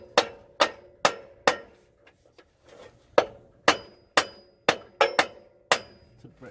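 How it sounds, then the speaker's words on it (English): Repeated sharp metallic taps from a 3-pound hammer loosening a Toyota center support bearing, about a dozen strikes in uneven bursts, each ringing briefly before the next, close and loud. "This is a 3-pound hammer, right?"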